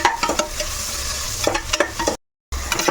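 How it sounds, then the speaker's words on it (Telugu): Onions and green chillies frying in oil in a pan, a close, continuous sizzle with sharp stirring scrapes throughout, broken by a brief cut to silence before the frying resumes. "ఇప్పుడు ఇదే ఆయిల్లో మనం ఆనియన్స్ కట్ చేసుకున్నాం కదా, పచ్చిమిర్చిని ఇవి రెండు వేసేసుకోవాలి."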